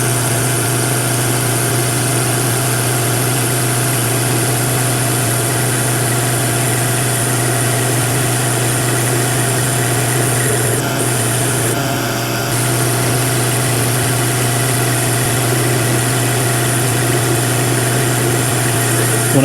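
A lathe machining the bevel on a steel flywheel hub for an X231 prototype, a loud, constant, close mechanical drone with a steady hum and a brief shift in tone partway through.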